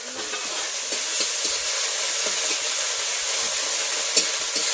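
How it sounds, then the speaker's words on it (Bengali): Ginger-garlic paste fries and gets stirred in a pan over reddened fried onions, giving a steady close sizzle with soft scraping stir strokes throughout. "আদা রসুন বাটাটা দিয়ে দিচ্ছি।"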